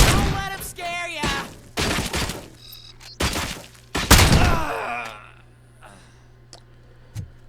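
Gunfire in the video game RoboCop Rogue City, a few loud bursts of shots with shouting voices between them, then fading to a quiet hum with one last faint thump.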